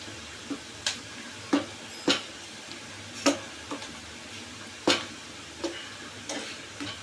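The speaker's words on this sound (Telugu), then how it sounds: "బెల్లం పాకం నెమ్మదిగా కలుపుకోవాలి" Jaggery syrup for sweet pongal being stirred slowly in a pot, heard as a faint simmering hiss with about a dozen sharp, spaced clicks and scrapes of the spoon against the vessel, with no talking.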